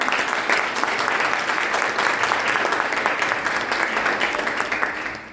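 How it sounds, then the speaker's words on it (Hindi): Sustained applause from a large crowd at a Constitution Day event in India, steady and loud throughout, easing slightly at the very end. "एक बार जोरदार तालियां।"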